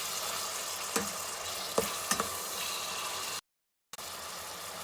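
Chicken fries in a pan for a chicken fried rice dish, giving a steady, close sizzle with a few clinks of stirring; the sound briefly drops out, then the sizzle resumes.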